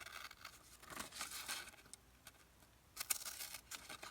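Quiet snips and papery rustles as paper ephemera pieces are fussy cut by hand with scissors for a tropical tag wallet folio, irregular small cuts close by.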